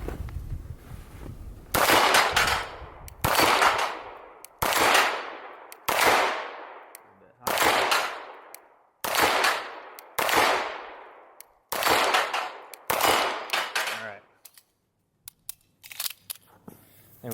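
CZ SP-01 Tactical pistol fired at steel targets at longer range: around ten sharp, loud shots spaced roughly a second or more apart, each with a ringing decaying tail, followed by a few fainter ones near the end.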